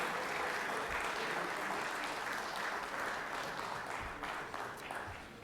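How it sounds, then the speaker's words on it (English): Applause in a state legislative chamber during a 2023 session, honoring a former colleague; a dense, continuous round of clapping from the floor, fairly distant and even, tapering slightly near the end. "Give Bruce a good round of applause."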